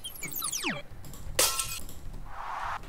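A glass-breaking sample used as ear candy in a bass music production plays fairly quietly, with a sharp shattering crash mid-clip among glitchy, falling electronic tones and a fading hiss afterward.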